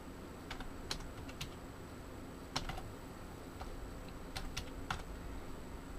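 Fingers tap a computer keyboard on a Windows 7 machine in quick, light bursts of clicks, close and clear over a steady background hiss.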